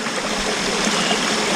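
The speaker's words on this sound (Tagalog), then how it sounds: "maririnig mo yung sound ng sapa, sound ng ilog" Steady rushing of a creek flowing over rocks at a campsite in Tanay, Rizal, a continuous broadband wash with no voices, close and even throughout.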